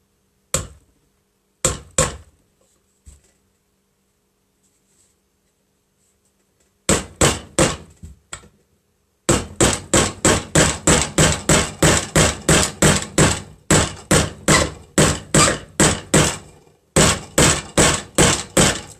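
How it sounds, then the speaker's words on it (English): Hammer striking wood while building a planter porch sign, a few isolated blows at first, then a long run of loud, sharp, evenly paced strikes close by, with a brief pause before the pounding resumes. "then you're just going to hammer that down"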